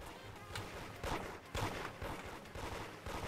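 G19X guns shooting in the Roblox game Toilet Tower Defense, a dense, continuous clatter of rapid gunfire with pulsing bursts, fairly quiet overall.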